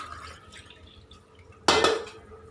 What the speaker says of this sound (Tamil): நான் 2 டம்ளர் தண்ணி வந்து ஆட் பண்ணுறேங்க